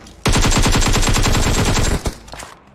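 Automatic gunfire in the video game PUBG rattles out as a loud, rapid burst of evenly spaced shots lasting nearly two seconds, followed by a couple of single shots trailing off.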